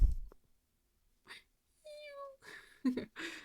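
A cat meows a few times, short and close, with quiet pauses between the calls.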